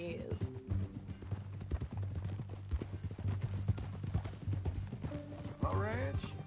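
Horse hooves clip-clop steadily in Red Dead Redemption 2, a regular rhythmic beat under steady conversation and a low music bed, with a brief whinny near the end.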